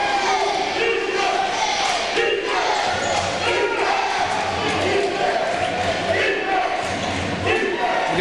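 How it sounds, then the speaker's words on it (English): Cheering squad chanting defense in unison at a 1999 high school boys basketball game against Utica, a rhythmic crowd chant filling a noisy gym with steady background crowd sound throughout. "Get the chant of defense coming from the cheering squad"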